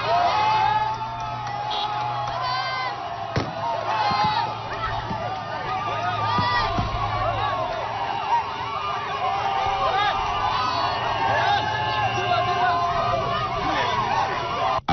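A jubilant crowd in N'Djamena cheers and whoops as a returning Chadian army convoy enters the city, a dense, sustained roar of voices, shouts and babble with a steady engine hum beneath.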